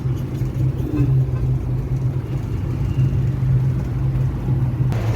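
Steady road rumble of car traffic on a mountain highway in Lebanon, a continuous loud engine and tyre drone from passing vehicles, heard from close by without a break.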